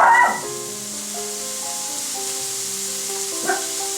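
Garlic sizzles in a hot pan, a steady bright hiss of frying that holds evenly throughout, opening with a brief clatter as it goes in and a small stir near the end, with a faint tonal hum underneath.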